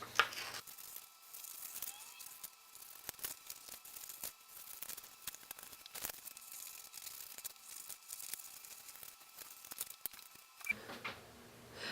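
Paper picture templates are cut out with scissors along bold lines in a quiet room: soft, scattered snips and light paper rustles come close up and faint, at an uneven working pace.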